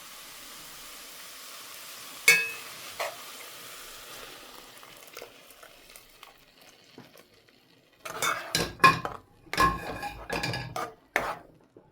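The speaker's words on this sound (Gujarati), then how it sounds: "તો બરાબર પાકી જાય આપણે એને હલાવતું જ રહેવાનું છે" Bottle gourd halwa stirred in a pot with milk: a spoon clinks against the pot once early on, then a quiet simmer, and toward the end a burst of close, loud scraping and knocking strokes.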